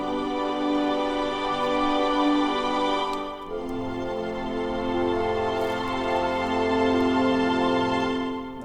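A section of a sequenced orchestral arrangement with five instruments plays together in dense, sustained layered harmony, shifting chords midway and continuing steadily without any voices.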